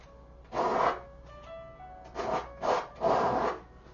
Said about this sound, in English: We're scrubbing hard the medium that we've been using because now we're not needing it anymore.